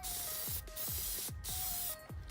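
Matte black spray paint hisses onto a BMW E30 kidney grille in four steady bursts, each a broad rushing spray close to the microphone, separated by brief pauses.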